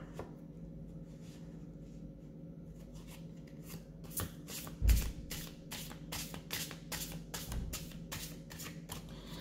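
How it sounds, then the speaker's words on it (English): Cards are shuffled by hand in a quiet room, a faint riffle followed by a rapid run of crisp, closely spaced flutters, with no voices. "I'm going to shuffle once more and then clear"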